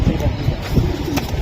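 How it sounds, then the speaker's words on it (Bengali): Giribaz pigeons of an old breed cooing softly in low repeated murmurs at a breeding farm, close by, with faint voices in the background. "হ্যাঁ পুরান জাতের কবুতর সুন্দর"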